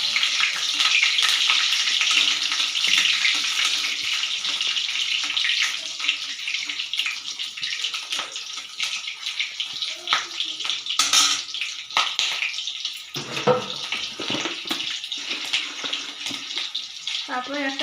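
Five-spice and green chilies are tempered in hot oil, making a loud, bright sizzle that crackles at close range and then settles into a lighter, uneven spatter.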